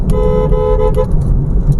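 A car horn sounds on a mountain road, a steady tone for about a second over continuous engine and road noise, close and loud, followed by driving sound alone.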